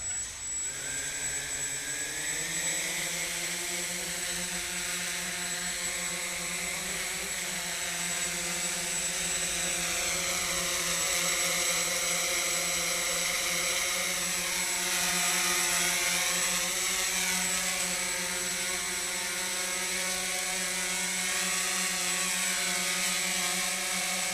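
Inside a warehouse, a repaired drone spins up, its motors rising into a steady, tonal whirring hum that holds loud and even with slight pitch wobbles; no voices.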